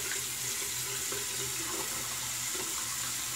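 Tap water runs in a steady, close, continuous rush during a wet shave at a sink, with no voices over it.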